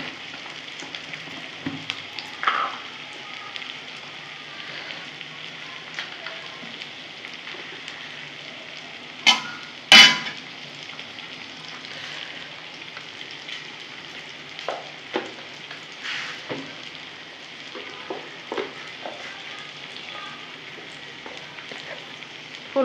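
Onions fry in a pan for a kochur loti dish, giving a steady, moderate sizzle with occasional sharper clinks and stirring taps.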